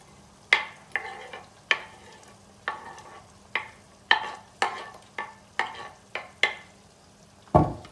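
Onions being sautéed in a pan for karnıyarık, with a faint background sizzle under a series of about a dozen sharp spatula scrapes and taps at a slow, irregular stirring pace, close up and with no talking.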